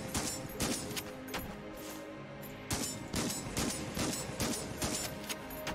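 Gunfire in Enter the Gungeon comes as rapid bursts of shots, with several clustered volleys and short pauses between them. It is fairly loud and close, with a constant game background underneath.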